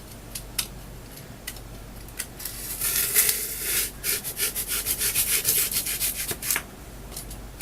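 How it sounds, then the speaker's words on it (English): A cheap utility knife saws through polystyrene, starting with a few sparse taps and then a run of quick, rhythmic, squeaky rasping strokes in the middle before it tapers off. The sound is close, and no one speaks. "I'm just using a very cheap utility knife"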